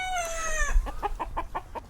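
A White Faced Black Spanish chicken on an ornamental poultry farm gives a drawn-out crowing call, then a quick run of about six close, loud clucks, with no talking.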